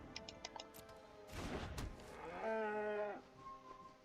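Bartered Cow card in a Magic: The Gathering digital match lets out a single cartoonish moo, drawn out with a rising, wavering tone, preceded by soft game clicks and a whoosh, moderately loud and alone without speech.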